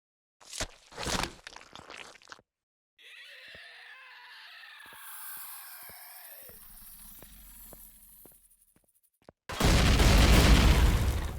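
Booming explosions and crunching blasts from the video game Empyrion Galactic Survival, on an ice planet, with sharp impacts, a sustained rumbling stretch, and a loud burst at the end.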